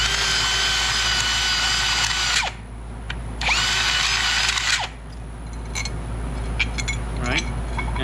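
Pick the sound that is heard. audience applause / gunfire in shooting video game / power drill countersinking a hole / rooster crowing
power drill countersinking a hole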